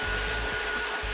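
Dryer blowing on a dog's fur at a dog wash, a loud continuous whooshing hum with a steady whine, close and unbroken, with brief low dips as the airflow shifts.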